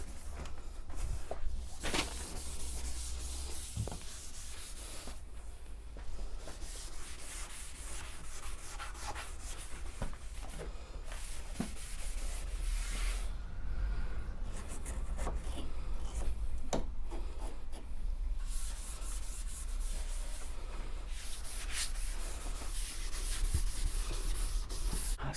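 Steady abrasive rubbing as primer is flatted off a car body panel on a classic Austin Rover Metro, a continuous scratchy sanding texture running throughout with brief pauses, close and fairly loud, no talking.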